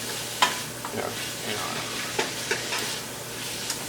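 Soy sauce is added to onions frying in a pan for vegan chow mein, a steady close sizzle punctuated by sharp spatula scrapes and clacks against the pan.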